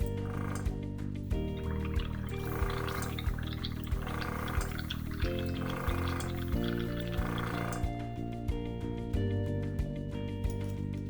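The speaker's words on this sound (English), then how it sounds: "Put brush under water to minimize overspray." A gravity-feed airbrush bubbling under water while being rinsed, giving a steady gurgling hiss with rhythmic pulses roughly every second as the trigger is worked, close and fairly quiet, over a low humming tone.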